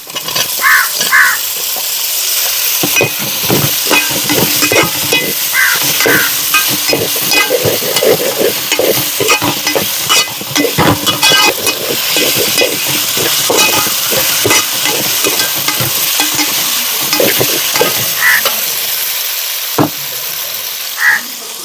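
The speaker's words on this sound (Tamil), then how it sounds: "இப்போ வந்து நம்ம தக்காளி ஆட் பண்ணிப்போம்" Tomato hits a hot, frying onion, ginger and garlic paste in a chicken spare parts curry. A loud, close sizzle follows with repeated scraping and clinking of a spoon against the pan as it is stirred.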